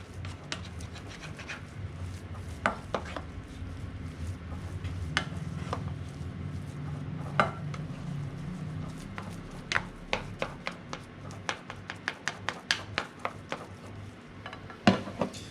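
Choux pastry panade being dried out in a saucepan on the stove, with a spoon scraping and knocking against the pan in irregular clicks over a low cooking hiss.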